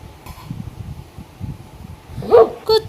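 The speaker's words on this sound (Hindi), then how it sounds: "कुत्ते के भौंकने की ध्वनियाँ" A dog gives two short, sharp barks close by near the end, rising over a low, muffled background rumble.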